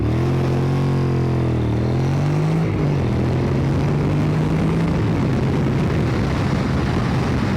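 A Honda NC750X motorcycle with a 54-horsepower, low-revving engine accelerates hard from 0 to 100 km/h, its rising engine note dropping at a couple of early gear shifts before droning on loudly and close.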